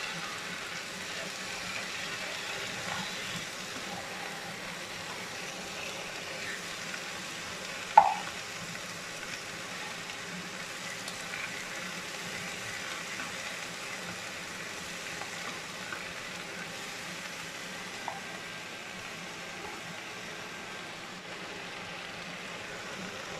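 Banana stem stir-fries in a pan, giving a faint, steady sizzle with soft, occasional scraping and stirring touches and one brief clink, all continuous and low without any talk.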